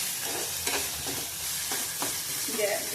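Onion browning in a spoonful of oil over a slow flame for a spicy Ghati-style mutton rassa, giving a steady, close sizzle with soft stirring scrapes every half second or so.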